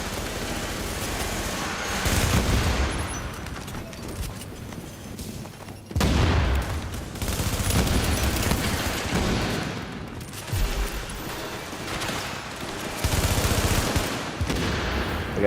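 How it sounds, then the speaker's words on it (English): In The Division video game, a fire turret and other weapons go off in dense, near-continuous bursts of gunfire and blasts, with a few louder surges spread across about fifteen seconds. "gotta use my fire turret"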